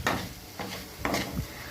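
Grated coconut stirred into pongal in a pan: three or four quick scraping strokes of a spoon against the pan with a light sizzle, close and fairly quiet, no voices.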